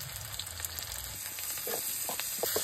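Oil sizzling while frying chicken curry over an open wood fire, a soft steady crackle with small pops and clicks, fairly quiet and close.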